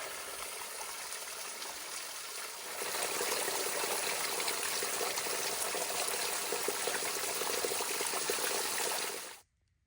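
Water streams and trickles at a spring on the Ozark Trail as a hiker collects drinking water, a steady close rush that swells partway through and then cuts off abruptly, with no talking.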